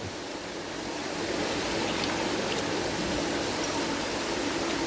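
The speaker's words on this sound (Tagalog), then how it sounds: "Lalakas-lakasan lang natin naman yung tubig." Dense, steady rush of running water that swells slightly louder after the first second and then holds a constant, close-up splashing hiss.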